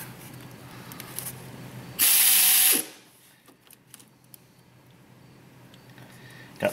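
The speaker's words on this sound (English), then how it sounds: "Got this new air ratchet here." A new, larger air ratchet removing the water pump pulley on a Pontiac Grand Prix 3.8, one loud, close, shrill buzzing burst of just under a second, then quieter clinks and shop noise.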